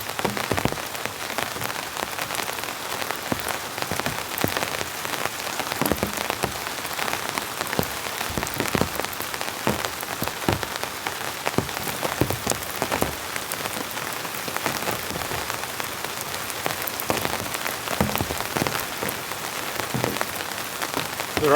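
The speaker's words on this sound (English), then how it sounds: "The rain's coming in real thick and heavy now." Heavy rain pours onto a van campsite in a rainstorm, a dense, continuous patter of drops hitting surfaces close by, steady and loud throughout with no voices.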